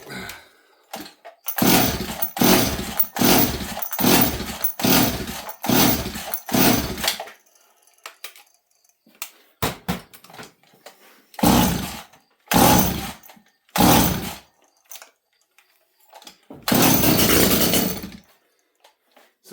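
A Stihl 026 chainsaw with a dry carburetor and fuel line, on full choke, being pulled over repeatedly: a series of loud rapid bursts of starter-rope cranking and brief sputters, separated by quiet pauses, then a longer burst near the end.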